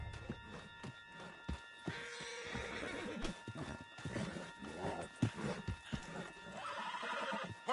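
A horse whinnies amid Red Dead Redemption 2 game sound effects, with hoofbeats clip-clopping and scattered thuds throughout, fairly close and steady.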